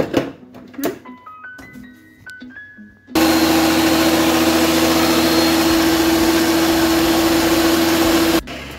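A kitchen blender grinds red chile enchilada sauce made with the chile cooking water, starting after a few short beeps and then roaring loudly and steadily for several seconds before cutting off.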